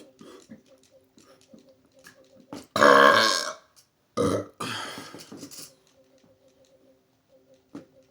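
Loud, wet burps from a congested person, two big eructations in the middle followed by smaller trailing ones, all close to the mic against a quiet room with faint background hum.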